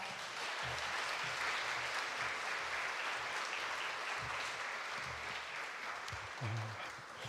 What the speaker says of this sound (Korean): 이 시간 목사님 나올 때 뜨거운 박수로 환영하겠습니다